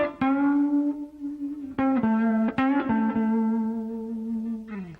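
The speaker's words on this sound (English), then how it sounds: "I'm just going to add a little bit of distortion to give you an idea" Electric guitar string bends with distortion in a blues lesson, sustained overdriven notes rising and settling in pitch, with a few picked attacks, loud and close with no talking.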